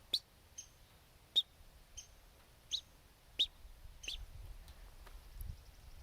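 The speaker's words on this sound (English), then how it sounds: "the little chip note kind of goes up at the end." Downy or Hairy Woodpecker chip calls, a series of sharp, faint, high single notes with a slight upward inflection, repeated about eight times at irregular intervals over soft background hush.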